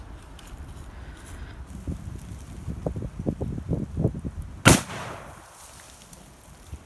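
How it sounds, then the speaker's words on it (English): .454 Casull Hornady jacketed hollow point round fired at a water jug on an outdoor range: a single sharp, loud shot after a stretch of low rustling and thumps, followed by a brief fading echo. "Again, this is the Hornady jacketed hollow point that Rob, my buddy, loaded up for me."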